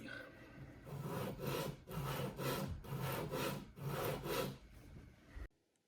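A painted telescope mount surface is lapped by hand, giving repeated rhythmic rasping strokes, about eight back-and-forth passes, close and steady, ending abruptly in near silence.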